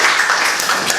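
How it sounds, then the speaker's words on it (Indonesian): A classroom of students claps together in a brief, dense burst of hands at close range, lasting about a second. "Kalau begitu tepuk tangan sekali lagi."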